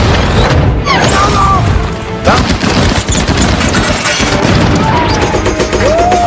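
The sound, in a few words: battle gunfire and explosions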